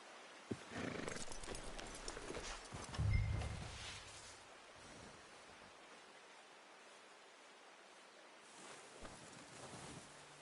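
Horse hooves clip-clop in the Red Dead Redemption 2 video game, a few quick hoof beats and a brief snort early on, then fading into a quiet ambient outdoor hush.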